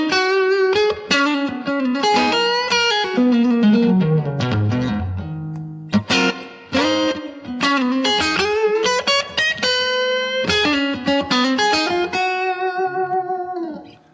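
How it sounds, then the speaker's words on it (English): An electric guitar with a clean tone runs through a Boss GT-8 multi-effects unit with light reverb and compression, playing a loud, continuous melodic phrase of ringing single notes and chords. "I've got a clean sound set up with a bit of reverb and a bit of compression"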